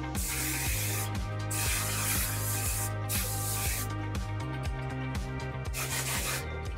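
Steady hissing bursts of hairspray, repeated in short pulses with a rhythmic rubbing texture, close to the microphone and without talk, while styling curly hair.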